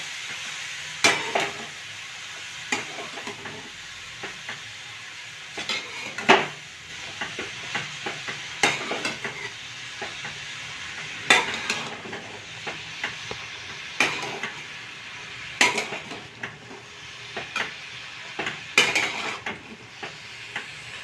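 Grated carrot for carrot halwa sautéed in a pan over medium heat, with a low continuous sizzle and repeated sharp scrapes and taps of a spoon every second or two, close by and without voices.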